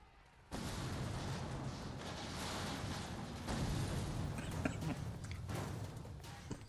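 Rumbling explosions and bursts from a video game fill the scene, a steady loud wash of blasts with sharper pops near the end.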